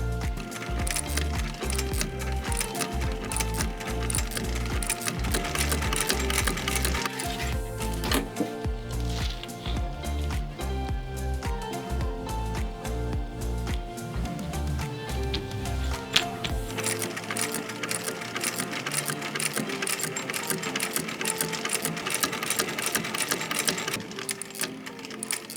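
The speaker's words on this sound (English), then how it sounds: "So I'm gonna go and sew this piece on." A sewing machine stitches a leather bag piece in fast, rapid runs of mechanical chattering, with a brief pause and the motor's low thump dropping away partway through, close and steady, with no talking.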